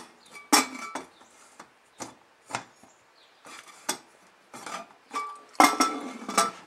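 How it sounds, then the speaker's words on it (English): Metal lid of a pressure canner being set down and twisted into place for canning turnip greens, producing a series of clanks, scrapes and clinks at irregular intervals, fairly close. "go ahead and seat your lid on there"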